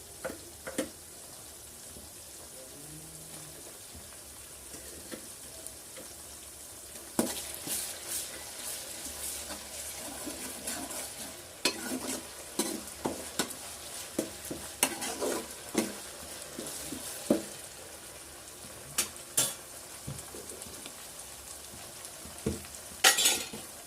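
Ginger garlic paste hits hot oil in a pan for a fish curry with tomato and tamarind, a steady sizzle broken by scattered clinks and scrapes of a spoon stirring, close and fairly quiet, with no voices.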